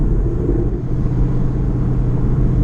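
Camaro with full bolt-ons running on E85, cruising in normal driving, heard as a continuous low rumble from the car, steady and fairly loud with no voices.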